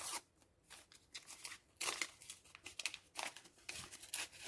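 A paper surprise packet is torn open close by, with bursts of crinkling, ripping and crunching paper in quick, uneven handfuls.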